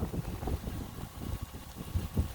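Wind gusting outdoors, low buffeting rumbles hitting the microphone in uneven bursts, fairly faint and without talk.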